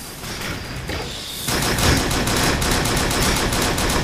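Rapid automatic gunfire in the first-person shooter UberStrike, bursting in loud and continuous after a quieter stretch and rattling steadily to the end, with no talk over it.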